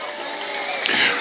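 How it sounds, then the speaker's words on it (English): A crowd at a nighttime Christmas parade in Bardstown cheers and applauds after a dance troupe's performance, a broad wash of noise that swells louder toward the end. "Let's give them one more round of applause."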